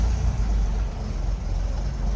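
A 1974 Toyota Land Cruiser FJ40 engine idling with a steady, deep, close-up rumble and a slight uneven pulse, no voices.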